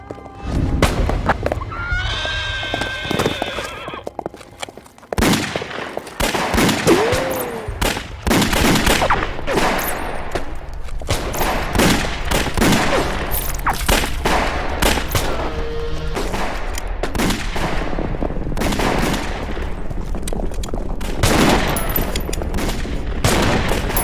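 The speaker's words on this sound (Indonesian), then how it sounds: "sehingga tembak-menembak pun terjadi" Horses whinny and hooves clatter as bursts of gunfire crack and rattle in a bandit shootout scene from a Chinese film, a loud chaotic action scene with a staccato volley of shots.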